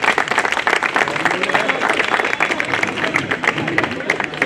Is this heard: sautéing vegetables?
no